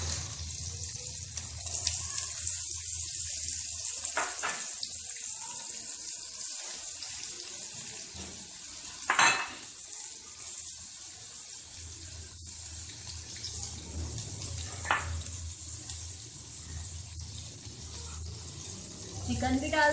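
Potatoes frying in a little hot oil give a soft, steady sizzle and crackle throughout, with a few louder clatters and stirring bursts close by.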